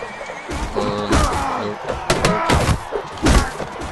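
Horse whinnies amid the clash of a tournament melee in the video game Mount and Blade Warband, with thuds and impacts overlapping in a loud, busy battle scene.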